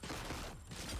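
Gunfire from RoboCop: Rogue City, a dense, continuous burst of shots filling the whole second at steady loudness with a brief dip midway, no talk over it.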